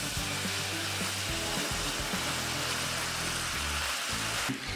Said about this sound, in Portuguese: você agora coloca água fervendo para afinar essa calda